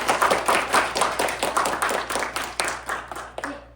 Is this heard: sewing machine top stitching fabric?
no